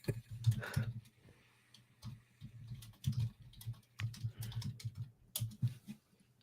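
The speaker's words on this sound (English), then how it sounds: "Oh, he's typing." Keys tapped on a computer keyboard in bursts of quick clicks with short pauses, close and clear, against a low steady hum.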